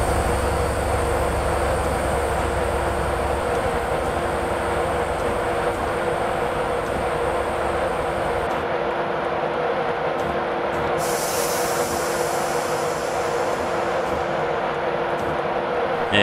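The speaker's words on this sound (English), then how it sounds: "I do love the sound of HSTs" A high-speed train in a train simulator game rumbles steadily with a broad, constant roar and hiss, the low rumble dropping away partway through while a brief airy burst rises above it.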